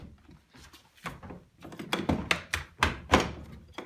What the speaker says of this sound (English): Door's closed.